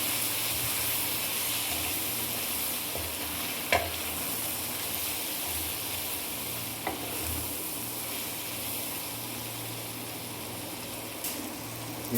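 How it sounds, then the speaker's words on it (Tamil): Onions sautéing with salt in a pan for a chicken gravy, a steady close frying sizzle with occasional stirring clinks, no talking. "இதை நல்லா வதக்கிடலாம்."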